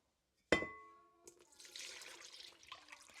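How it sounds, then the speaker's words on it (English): Water poured into a bowl holding sourdough starter for bread, starting with a sharp clink against the bowl, then a steady close splashing pour. "Now, I'm going to add my water."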